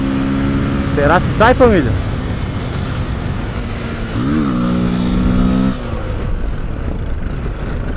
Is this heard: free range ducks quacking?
no